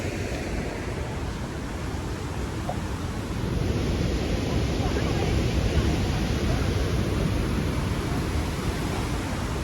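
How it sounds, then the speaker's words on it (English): A gently flowing brook gives a broad, steady rushing wash of water that grows slightly louder partway through, close by and continuous with no voices. "I'm over the gently flowing brook that will eventually go to meet that egret at the precipice."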